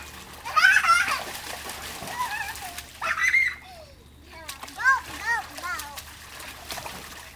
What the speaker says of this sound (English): why don't you splash the other way so we don't get wet?